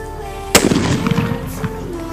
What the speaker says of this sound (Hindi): हमारे एक बुलेट बम की आवाज आई, गड्ढे को कर दिया है तबाह